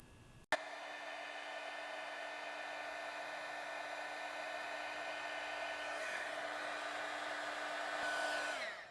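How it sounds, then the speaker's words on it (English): Heat gun blowing steadily while shrinking heat-shrink tubing over a wire splice during a BMW E46 convertible top wiring repair; a click switches it on, followed by a continuous close whine and airflow hiss. "I'll use a heat gun to melt that,"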